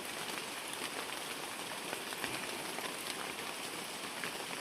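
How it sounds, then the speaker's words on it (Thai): Rain falling on leaves in a forest, a soft, continuous patter that stays faint and even with no voices over it. "แล้วเวลาเขาฝนตกเขาจะบ่เปียกนะพี่น้อง"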